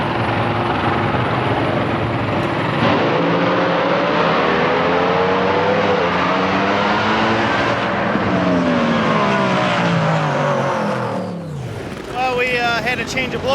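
A top fuel dragster making a run at US 131 Motorsports Park: a roaring engine holds a sustained howl for about eleven seconds, then cuts off sharply. A faint announcer voice can be heard under the engine.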